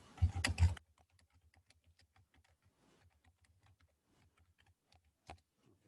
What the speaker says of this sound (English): Let me just type a message.